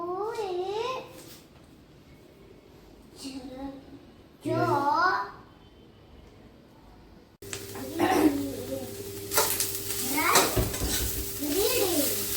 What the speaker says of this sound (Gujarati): તેલ મૂકીને એમાં છે ને પહેલા નાખ્યું આપણે આદુ